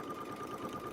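A sewing machine runs in a brief steady burst while stitching a quilt along a Westalee ruler, with a constant motor hum and quick needle chatter and no voices.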